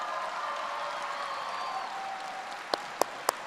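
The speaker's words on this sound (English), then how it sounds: "Can we give them a round of applause," Audience applause at the West Carrollton High School commencement ceremony, a steady, fairly distant wash of clapping that holds evenly, with a few sharp knocks near the end.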